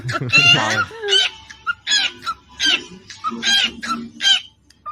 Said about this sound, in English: Listen to a bird beatbox.